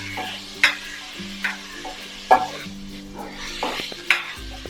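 Tattukada-style beef curry frying with masala and onion in a pan, a soft sizzle broken by several sharp scraping, clinking stirs of the spoon against the pan.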